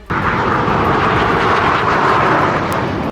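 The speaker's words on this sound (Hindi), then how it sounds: "वायुसेना की सूर्य किरण टीम के कई विमान भी आसमान में एक साथ उड़ते दिखाई दिए" Indian Air Force aircraft, including the Surya Kiran display team, pass over Hindon airbase during a ceremony, producing a loud, steady, broadband engine roar that fills the whole few seconds with no voices.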